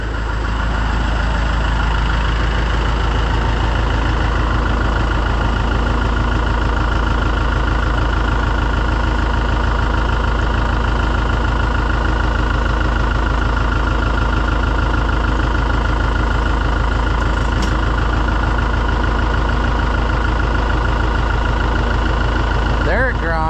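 An Iseki T7000 tractor engine runs steadily with its PTO engaged and grinding, a loud, continuous, unchanging drone held for the full duration with no break.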